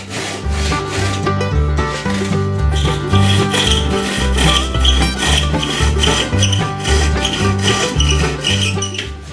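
Excess wood on the joining piece of a Thule kayak hull being trimmed along the deck line, a loud, close, continuous rhythmic rasping saw stroke repeating steadily back and forth with no talk.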